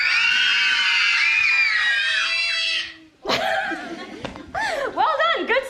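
An audience of children at a literature book festival screams together on cue in one long, loud, high burst that cuts off suddenly, followed by scattered giggles and chatter.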